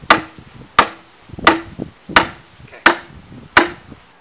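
Rebar is hammered down into the ground for a garden flower bed, six sharp, evenly spaced metallic strikes about two-thirds of a second apart, each with a quick decay, loud and close.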